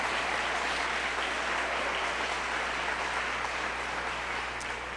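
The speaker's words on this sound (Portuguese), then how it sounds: "Aplauda ao Senhor, a Ele a glória" A church congregation applauds with steady, continuous clapping that holds at an even level throughout, with a low hum beneath and no voices standing out.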